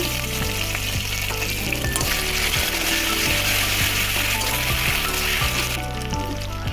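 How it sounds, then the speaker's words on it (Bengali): Green chillies, freshly chopped, are stirred into a pan for a vegetarian curry, frying with a strong, steady sizzle and scraping of the spoon throughout, loud and close with no voices. "কাঁচা লঙ্কা কুচিয়ে দিয়ে আমি নাড়াচাড়া করে নেব একটুক্ষণ"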